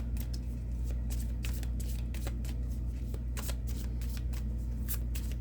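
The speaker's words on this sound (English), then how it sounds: "I'm going to get a goddess guidance card for you." Goddess guidance oracle cards being shuffled by hand, a steady run of soft papery riffles and flutters over a low constant hum, fairly close.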